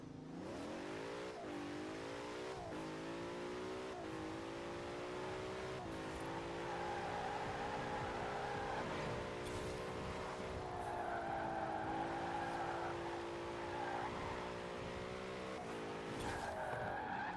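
A race car drifts in the Forza video game, engine revving in rising and falling tones while tires squeal repeatedly, loud and continuous through the whole stretch.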